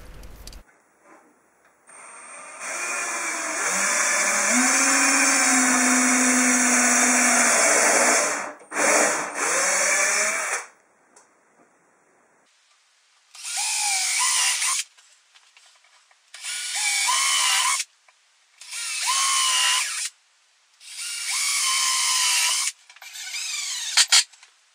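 Power drill boring a chamfered pilot hole into wood, then a driver sinking screws from underneath while building a table-saw cabinet: one long steady whine with pitch shifts, followed by four shorter bursts with pauses between, close and loud, no talk.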